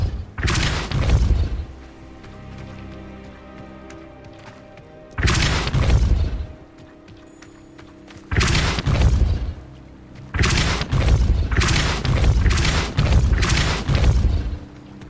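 Depulso force spell blasts in a wizarding video game, a series of loud, booming whooshes with heavy low-end thuds, arriving in separate bursts with quieter ambient gaps between them.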